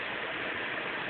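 A mountain stream rushing beneath a laminated wood footbridge, a steady broadband wash of water that stays constant and fairly close for the whole brief moment.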